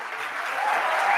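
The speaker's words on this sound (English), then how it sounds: "And then they all clap forever" Applause rises from an audience after Governor Hochul's inauguration speech, a broad wash of clapping that swells slightly over a short moment, heard at some distance.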